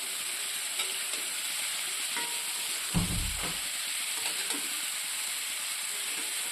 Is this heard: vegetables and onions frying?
yes